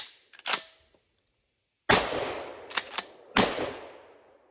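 A GForce GF3P 12-gauge shotgun fires standard shells outdoors, three sharp loud blasts with ringing tails spaced about a second apart, after a quieter click and rattle at the start.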